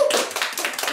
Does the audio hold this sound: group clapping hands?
yes